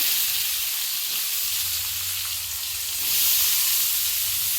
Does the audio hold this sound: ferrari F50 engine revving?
no